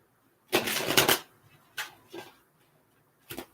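Tarot cards are shuffled by hand: a short, crisp riffle is followed by three quieter, separate slaps and flicks spread over a few seconds, close-up and soft, with no talking.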